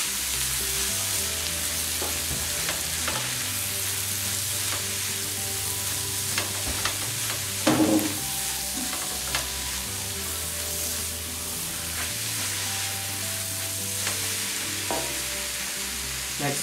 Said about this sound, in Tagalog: Sabay na rin natin ang ating alamang. Ayan. Gisa-gisa lang yan